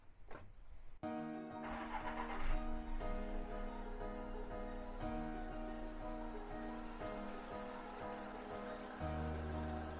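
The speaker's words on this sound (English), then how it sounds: "I want to start the car and just make sure that there's no other leaks around here." A VW Polo Vivo engine with a freshly repaired cracked exhaust manifold cranks briefly, catches and settles into a steady, close idle with a low hum, with a short rise in level near the end.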